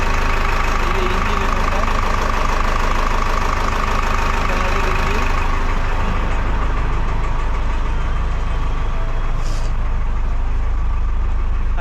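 A trawler boat's engine idles in its engine room on a Sundarbans river, a steady, loud, close rumble with rhythmic knocking throughout, and faint voices now and then.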